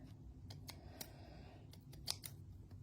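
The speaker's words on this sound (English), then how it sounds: "I can go ahead and snip this free" Scissors snip free a tied-off sewing thread on a stitched fabric parrot, several soft close cuts and clicks in a quiet room.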